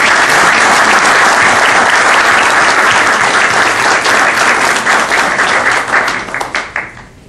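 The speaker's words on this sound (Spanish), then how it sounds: "pido un aplauso por lo que han hecho" Loud, dense audience applause for coffee producers at a presentation of a coffee-farming productivity program, holding steady and then thinning into a few last claps before fading out.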